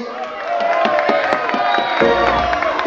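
A concert crowd cheers and applauds for a newly signed artist from San Pedro de Macorís, loud whoops and shouts over scattered clapping, with a voice or two rising above the crowd noise.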